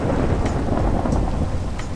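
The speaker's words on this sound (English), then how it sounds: "got the lightning strike" Rain falling steadily in the Minecraft video game, a continuous broadband hiss with faint crackling bursts of a lightning strike, loud and close throughout.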